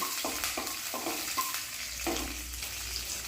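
Curry leaves, black mustard seeds and cumin sizzle in hot oil, a constant frying hiss with a few rhythmic stirring scrapes of a spoon against the pan, no voices.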